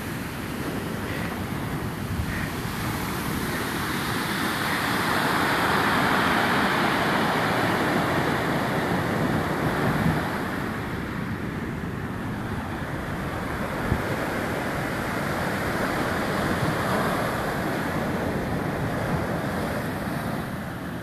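Ocean surf rolls in at Cable Hut Beach in Jamaica, a continuous loud wash of breaking waves mixed with heavy wind buffeting the microphone, with no voices.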